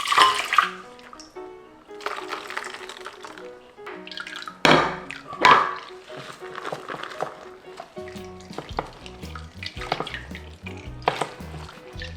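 Water poured over ground perilla seeds held in cheesecloth for rinsing, heard as intermittent splashes and trickles with dripping in between, close and moderately loud, mixed with handling noises.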